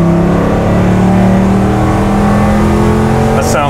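Loud, steady engine drone of a Velocity F-250 Highboy pickup truck cruising at highway speed around 70 mph, heard from inside the cab with no talking.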